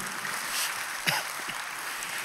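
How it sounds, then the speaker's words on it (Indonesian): A church congregation at a live-streamed service applauds, a soft, diffuse wash of many hands clapping at a distance, steady and fairly faint throughout. "Tepuk tangannya jangan tanggung-tanggung."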